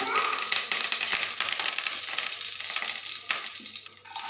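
Mustard seeds, cumin, crushed garlic and curry leaves fry in hot oil with a steady, dense crackling sizzle, close and continuous throughout.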